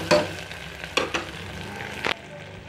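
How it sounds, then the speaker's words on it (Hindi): Onions with dry spices such as coriander powder, salt, cumin powder, garam masala and red chilli powder frying in a pan for a jackfruit korma, a steady sizzle broken by a few sharp scraping stirs, close and without talk. "इनको भी हम लगभग 2 से 3 मिनट अच्छी तरह से भूनेंगे चलाते हुए"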